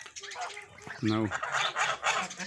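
Kholmogory goslings and geese call nearby, with soft peeps and a clear nasal honk in the middle, followed by scattered chattering calls at moderate volume over a quiet background.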